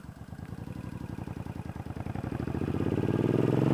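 Passing car's engine heard from a stopped motorcycle, a low, rhythmic pulsing hum that grows steadily louder and thicker as it approaches over nearly four seconds.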